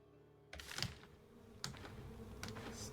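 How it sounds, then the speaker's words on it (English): Buzzing wasps from the video game Stoneshard, a faint insect drone under several sharp clicks and taps, fairly quiet and steady. "Damn wasps."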